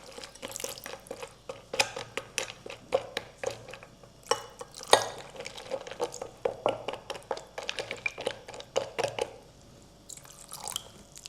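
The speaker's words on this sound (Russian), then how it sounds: "И мы взяли теплую водичку и вот так вот тихонько растворяем." Sourdough starter crumbs gently stirred and dissolved in warm water in a bowl, giving soft, close, irregular splashes and drips with small clinks, quietly and without talk.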